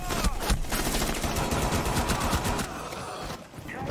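Rapid gunfire in Rainbow Six Siege, dense automatic bursts rattling almost without pause, loud and close, with a short lull near the end before the firing resumes.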